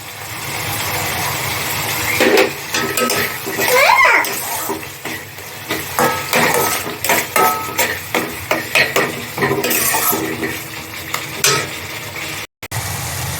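A spoon scrapes and stirs sour yogurt and spices in a pan for a dhaba-style palak paneer, giving repeated rhythmic scraping and clacking strokes over a low frying sizzle, with no talk.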